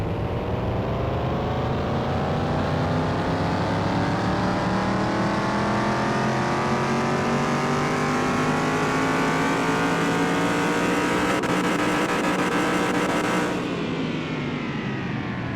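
A car engine on a dyno in Car Mechanic Simulator 2021 revs in one long sustained pull, pitch rising steadily to a high whine before cutting off abruptly near the end.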